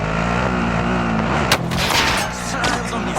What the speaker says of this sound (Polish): Strzelają do mnie!